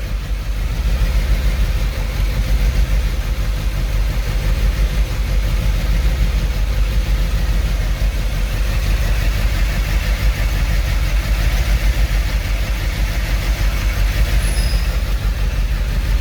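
A 2008 Mercedes S63 with 150,000 km and a suspected misfire and leaking oil cooler idles steadily nearby, a continuous low engine rumble holding even throughout with no voices.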